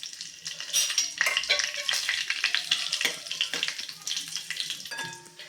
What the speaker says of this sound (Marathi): हे खडे मसाले या तेलामध्ये घालून घेऊयात आपण आणि साधारण तीस ते चाळीस सेकंद या तेलासोबत फ्राय करून घेऊयात